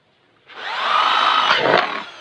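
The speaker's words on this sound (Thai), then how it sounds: "เดี๋ยวเจาะเจาะไม้ตัวนี้นะครับ" An electric drill with a freshly sharpened bit bores into a piece of wood in a single loud, close burst lasting under two seconds. The whirring grind rises and then fades as the bit cuts through.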